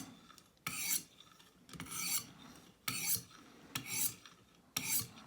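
A Stonehocker Kodiak knife blade is drawn across a sharpener in one-direction passes, six crisp rasping strokes spaced about a second apart, close and clear with quiet gaps between them.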